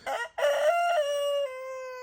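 A rooster in a chicken yard gives one loud, close crow, starting with a short burst and then stretching into a long, drawn-out call that tapers off.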